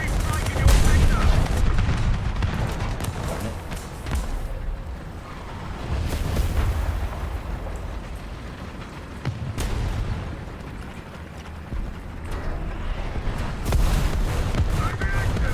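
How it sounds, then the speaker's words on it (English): Artillery strike explosions in War Thunder boom repeatedly over a rumbling battlefield in heavy, irregular blasts mixed with scattered gunfire. Voices come in and out across the whole stretch. "Artillery strike in your sector."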